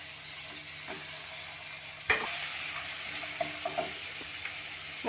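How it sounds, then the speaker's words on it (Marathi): Green chili and ginger-garlic paste frying in butter in a pot, a soft continuous sizzle with a few light stirring scrapes and one sharper clack of a utensil against the pan, no voices. "बटर घालते आहे बटरमुळे स्वाद अजूनच छान येतो आपल्या सूपला हिरवी मिरची घालते आलं लसूण पेस्ट"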